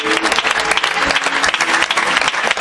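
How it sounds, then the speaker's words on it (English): A church congregation gives dense, loud applause in praise during a sermon, with a continuous wash of many hands clapping close by. "A round of applause to the Lord Jesus."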